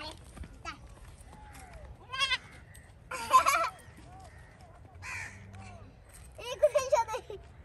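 Young goats bleat in short, wavering cries that come in scattered bursts, close by, while people talk over and between the calls.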